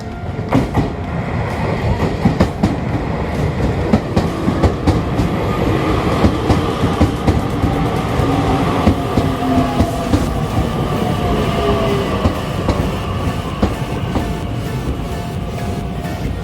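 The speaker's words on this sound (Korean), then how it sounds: "열차가 즉시 역으로 진입합니다." A local train rumbles steadily into a Tokyo station, rhythmic clattering of wheels over rail joints and faint squeals, loud and close, with no voices.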